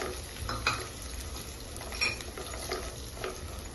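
Turmeric, cumin powder, garam masala and black pepper roasting in a pan, stirred steadily with a spoon, giving a soft, continuous sizzle and scraping with light clinks against the metal, heard up close.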